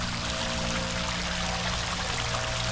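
Water flows continuously at a park memorial, a steady close rushing and pouring sound like a fountain or stream, filling the whole moment without pause.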